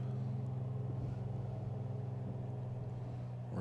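Aircraft engine at takeoff in Microsoft Flight Simulator 2020 at Arcadia Municipal Airport, a steady droning hum with a low tonal buzz that holds evenly throughout, no talking over it.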